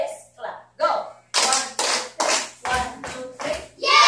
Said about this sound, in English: Let's give yourselves a yes clap.